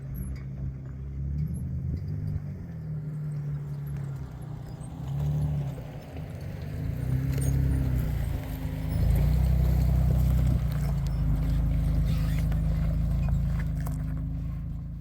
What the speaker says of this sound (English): Light off-roading.